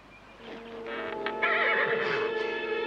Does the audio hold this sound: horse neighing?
yes